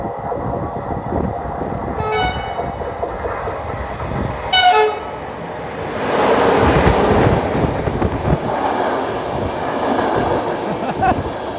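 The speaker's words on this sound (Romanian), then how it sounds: "Marfar." A freight train passes at Sinaia in the Prahova Valley, its steady rumble and wagon clatter building as it nears, with a brief horn blast partway through and rolling wheel noise continuing to the end.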